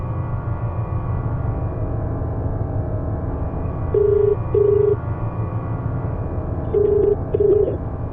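Phone ringing unanswered, a steady two-pulse ringback tone repeating twice over a low background hum, with no voices.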